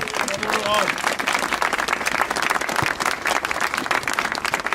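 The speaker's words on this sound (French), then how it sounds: "Je vous demande de l'applaudir très fort." A crowd at a French political rally applauds loudly and steadily, dense clapping that fills the whole stretch, with a voice briefly audible at the start.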